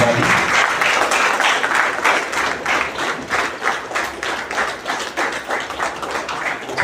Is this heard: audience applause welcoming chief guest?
yes